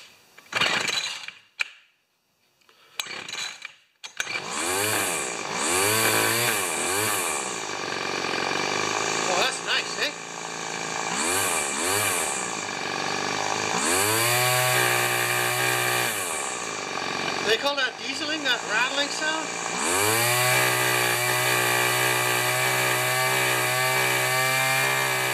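A small two-stroke weed eater engine in poor running condition, choked, sputters through a few short attempts and then runs loud and close, its pitch revving up and down repeatedly while a person talks at times.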